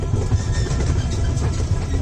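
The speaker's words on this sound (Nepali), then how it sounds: "ल ट्रेनमा चढ्यो है नानी हाई ल ट्रेन चल्यो अगाडि गइरहेको ट्रेनमा" A mini amusement-park ride train carrying riders rolls along, giving a steady, loud low rumble with a faint mechanical hum throughout and no clear breaks.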